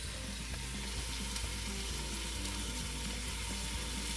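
Steady, dense sizzling of a beef roast searing in a hot Instant Pot, continuous and fairly close, with no voices.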